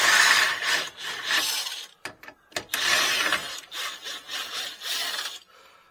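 An electric wrench pulling a lower control arm bolt out of a Chevy Cobalt gives a rasping, grinding mechanical whirr in close bursts with short pauses and a few sharp clicks between.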